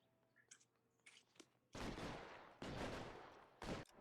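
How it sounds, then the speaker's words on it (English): Several loud, broad bursts of gunfire in the video game L.A. Noire, the last short and sharp, preceded by quieter clicks and small mechanical sounds. "I can hear gunfire."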